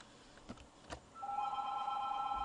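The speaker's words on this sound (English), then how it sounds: "Home phone goes off." A home telephone rings with a steady electronic double tone, starting about halfway through and continuing to the end, preceded by a couple of soft knocks in an otherwise quiet room.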